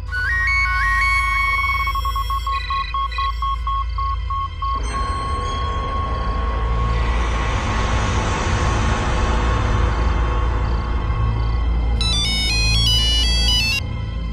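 A phone ringtone plays a repeating electronic melody, then gives way to a busy background of music and noise with a brief tonal burst near the end.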